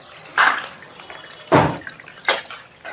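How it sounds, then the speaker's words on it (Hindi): Tomato sauce squirts from a packet into a pan of butter chicken, three distinct wet splattering bursts separated by short pauses, fairly loud and close. "सॉस डालेंगे"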